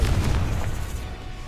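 A Confringo blasting spell goes off in a Harry Potter video game, a loud booming explosion with heavy low rumble that decays over about a second and a half.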